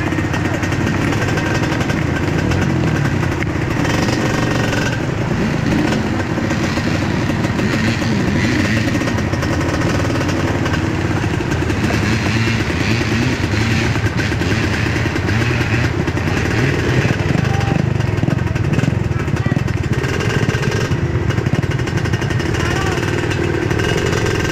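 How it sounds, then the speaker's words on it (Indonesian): A motorcycle engine runs with a steady, loud rumble throughout, close by on a rainy outing, while people talk over it. "Nyalain atuh motornya."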